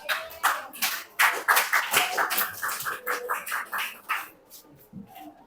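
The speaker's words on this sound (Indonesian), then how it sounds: "silakan kita beri aplaus dulu ke kelompok 5" A classroom gives a small round of applause for a student group, a handful of nearby hands clapping in uneven bursts that gradually thin out and fade toward the end.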